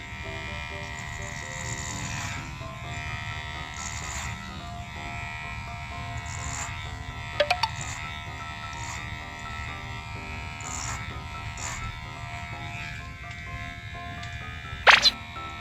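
An electric hair clipper hums steadily at close range during a self-haircut, with brief sharper bursts as it cuts along the hairline.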